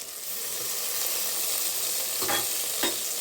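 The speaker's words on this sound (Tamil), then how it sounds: "இஞ்சி பூண்டு பச்சை வாசனை போக தாண்டி நல்லா வதக்கிக்கலாம்." Ginger garlic paste sautéing in a pan for a wedding-style mutton gravy, giving an even, close frying hiss with two soft stirring scrapes near the end, no talk.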